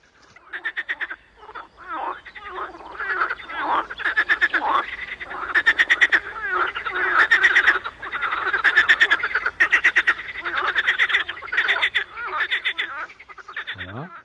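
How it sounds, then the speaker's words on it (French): An evening chorus of many frogs croaks in dense, overlapping bursts of rapid pulsing calls, loud and close, continuing almost without pause. "Alors là le soir, je vous dis pas, le concert des grenouilles"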